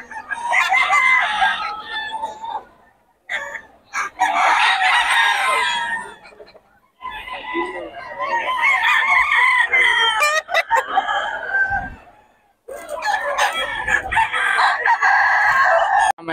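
Several roosters crow loudly one after another, long strained calls with short gaps, mixed with clucking and background farm sounds.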